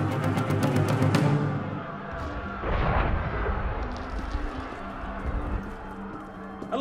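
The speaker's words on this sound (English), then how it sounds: "That was cannon fire." Cannon fire in the video game Assassin's Creed Unity: heavy booms roll out at the start and again midway, each followed by a long rumbling tail and lingering low din.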